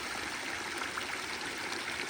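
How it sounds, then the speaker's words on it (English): A small waterfall streamlet pours steadily into a Vermont beaver pond, a continuous close, even rush and trickle of water with no pauses or voices. "And there's also a flow of water"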